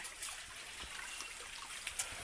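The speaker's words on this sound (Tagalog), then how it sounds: "So mayroong kunting tubig pala dito ang sapa na to." Faint trickle of shallow water running through a small creek lined with trees, a soft steady babble with occasional tiny splashes.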